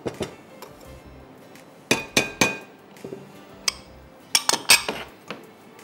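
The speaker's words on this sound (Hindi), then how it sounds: "बस इसको अच्छी तरह मिक्स कीजिए।" A spoon clinks and taps against a bowl in short, irregular bursts while buttermilk and spices are mixed, close by and with no talking.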